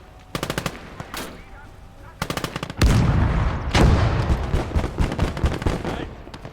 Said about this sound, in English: Somebody's shooting our machine gun.